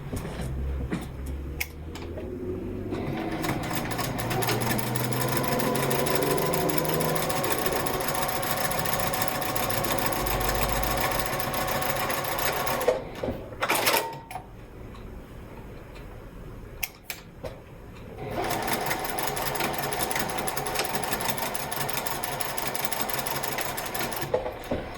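A sewing machine stitches a card slip onto a fabric wallet, running in long steady bursts with two brief pauses, close and loud, with no talk.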